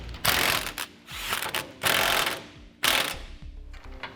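Socket wrench with a 3/4 inch socket ratchets nuts on carriage bolts while a Curt trailer hitch receiver is installed on a 2018 Chevrolet Silverado, four loud close bursts of rapid clicking separated by short pauses.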